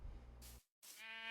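Sheep bleat in a farming video game, two short nasal calls separated by a brief silent gap, close and fairly loud over a low background hum.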